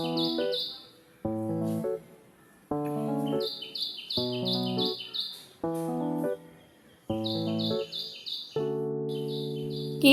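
A koel calls in repeated rich, rising phrases at regular intervals, close and clear, with higher chirps from other birds between and over its calls.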